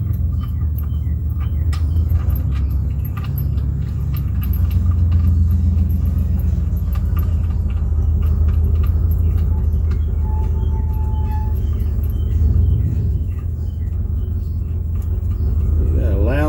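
A passing vehicle makes a loud, deep, continuous rumble that dominates the whole stretch outdoors during an oil change on a Volkswagen Jetta TDI.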